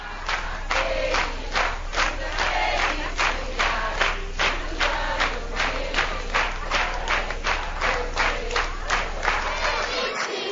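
Steady rhythmic clapping from several people at a child's birthday party, with an even beat of crisp claps repeating over a low crowd murmur.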